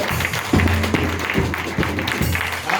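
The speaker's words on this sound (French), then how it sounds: "on acclame très fort au Seigneur" A church congregation claps and acclaims during a French-language worship service, with rhythmic claps over a low sustained tone and a lively room noise throughout.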